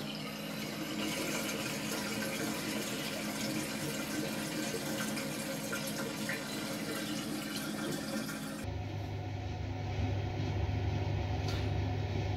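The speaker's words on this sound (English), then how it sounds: "In the Southern Hemisphere, does water go down the drain clockwise?" Water swirls and runs down a sink drain in Australia, a steady close rushing and gurgling that shifts into a deeper, lower rumble partway through.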